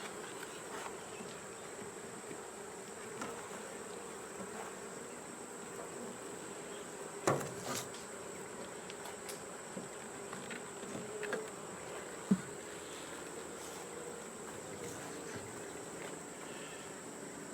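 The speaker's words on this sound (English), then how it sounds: "Just lots of bees." Honeybees buzz steadily around an open beehive during a colony inspection, a low continuous hum with occasional closer fly-bys and faint handling bumps, no talking.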